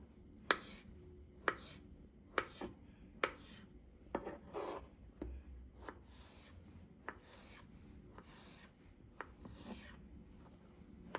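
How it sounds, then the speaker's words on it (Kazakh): A knife chops through boiled potatoes on a board for Olivier salad, close and quiet, in irregular taps roughly once a second with no talking. "Енді кезекте картоптарымызды турап аламыз."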